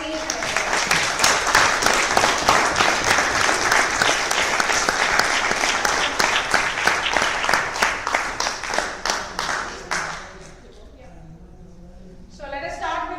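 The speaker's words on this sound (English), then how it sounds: "they deserve a roaring applause from each and every one" A conference audience breaks into sustained applause, dense and even for about ten seconds before tapering off, with a speaker's voice returning at the end.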